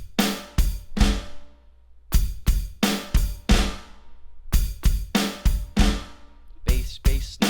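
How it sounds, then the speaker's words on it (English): Drum fill played on a kit in a bass, bass, snare, bass, flam pattern, repeated in tight groups of hits. Each stroke is close and punchy with a ringing decay, and short pauses fall between the phrases. "this new bass and snare fill, which goes like this: bass, bass, snare, bass, flam"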